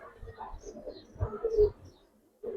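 Pakistani highflyer pigeons on a farm give soft, low cooing calls in a few separate bursts, close by, with a brief pause before the last one.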